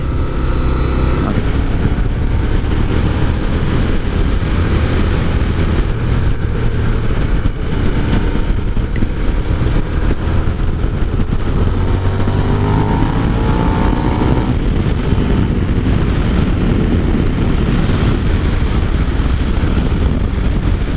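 A 2003 Suzuki SV1000 motorcycle being ridden, with a loud, steady engine drone and heavy wind rush throughout, close and continuous with no talking.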